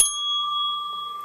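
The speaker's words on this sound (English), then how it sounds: "The bell." A single bright ding from a hotel bell, a Hollywood Tower Hotel collectible, struck once up close and left to ring with a clear sustained tone that fades slowly, with nothing else heard.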